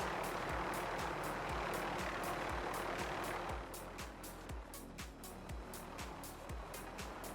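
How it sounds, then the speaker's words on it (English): Loud, steady rotor roar of a helicopter in Call of Duty Warzone's Verdansk, with evenly spaced low blade thumps under a broadband wash that eases slightly partway through. "Man, the heli is obnoxiously loud."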